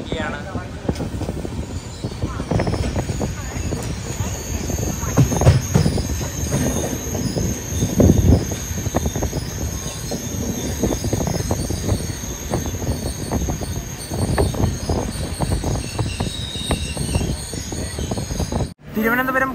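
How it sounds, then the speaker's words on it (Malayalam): A train, the Thiruvananthapuram–Kozhikode Jan Shatabdi Express, pulls into Ernakulam Town railway station with a loud, steady rumble and clatter of wheels. High-pitched wheel squeal runs over the rumble, and voices are faintly audible. "എറണാകുളം ടൗൺ റെയിൽവേ സ്റ്റേഷനിലേക്ക് ഇതാ ട്രെയിൻ എത്തിക്കൊണ്ടിരിക്കുകയാണ്."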